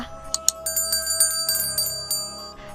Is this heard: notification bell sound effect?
yes